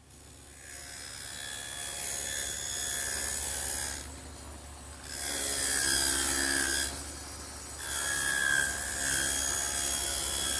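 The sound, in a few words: table saw cutting a dado in oak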